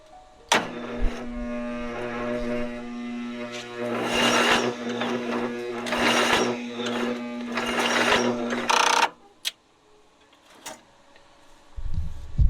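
A free lawn mower with a weak battery cranks over, its starter whining in uneven surging bursts for about nine seconds before cutting off abruptly, followed by a few faint knocks.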